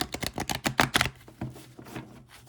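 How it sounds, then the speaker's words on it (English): Tarot cards are shuffled by hand in quick bursts of crisp riffling snaps, close and clear, slowing into softer, spaced shuffles toward the end. "Let me just do a little bit of shuffling here. Get all the energy flowing in the cards."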